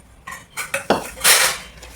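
Plates and cutlery clatter in a home setting, a quick run of sharp clinks and knocks, building to a louder scraping clash before tapering off, no voices.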